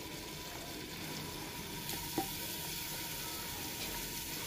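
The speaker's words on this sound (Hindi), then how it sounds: "मसाले को अच्छे से भूनने के बाद अब इसमें हम मेथी शामिल करेंगे।" Methi (fenugreek leaves) drop into spices frying in a pan for a village-style mixed vegetable sabzi, giving a steady soft sizzle with one brief louder crackle partway through and no talking.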